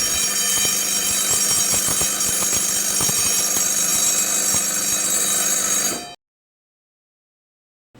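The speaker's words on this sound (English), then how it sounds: "The priority is to ring the fire alarm and inform everybody on the ship regarding the fire" Continuous loud fire alarm bell ringing steadily aboard a ship during a fire drill for a generator fire, with dense high-pitched tonal ringing that stops abruptly after about six seconds, followed by silence.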